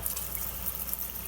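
Water sprays steadily onto a nitro RC car chassis, a close, continuous hissing spatter without breaks and no voices.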